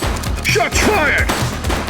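Repeated gunfire in The Precinct, a police game, comes as a quick run of sharp, close shots with a voice talking over the volley.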